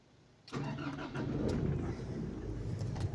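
Nissan NV350 van engine started with a push-start button: quiet, then at about half a second the engine cranks and catches abruptly, settling into a steady close idle hum.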